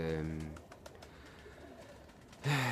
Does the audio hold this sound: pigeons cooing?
yes